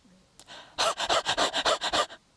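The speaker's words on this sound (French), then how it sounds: "2 à 3 inspire-expire en à peu près 2 secondes. Voilà. Ça peut ressembler au halètement du chien." Rapid panting breaths in a yoga breathing exercise, about nine quick, loud, evenly spaced huffs in under two seconds, close and alone, like a dog's panting.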